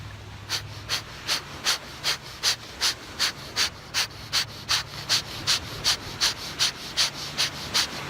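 Deep, forceful rhythmic breathing exercise driven by the abdominal muscles, with about fifteen strong, evenly paced breaths close to the mic against a low steady hum, no talking.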